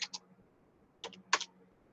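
Quiet keystrokes come from a computer keyboard during data entry in an Excel spreadsheet. A few isolated clicks are followed by a short cluster of taps after a pause, close and soft, with no voices.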